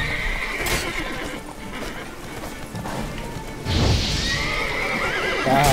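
Horses in The Witcher 3 video game give a loud whinny over thudding hoofbeats, with combat blows clattering around them and a second neigh rising near the end.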